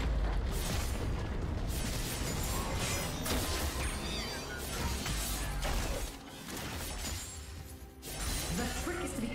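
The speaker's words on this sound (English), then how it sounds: "Red team's turret has been destroyed." An enemy turret destroyed in League of Legends during a top-lane Camille versus Gwen game, heavy booming crashes and shattering impacts layered over continuous loud game sound and music.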